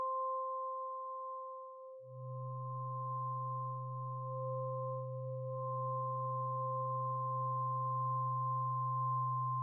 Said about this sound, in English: we're doing it with 3 sine waves.